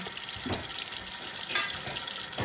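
Dishes being washed under a running kitchen tap, a steady close rush of water with occasional clinks and splashes, no speech.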